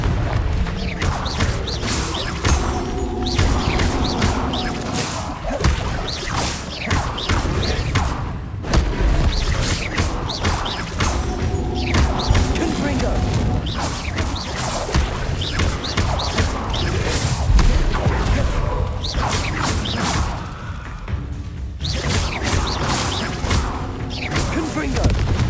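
Blasting spells cast in Hogwarts Legacy, a dense, loud run of booms, thuds and crashing impacts with whooshes over continuous game noise, and a voice speaking spell names now and then.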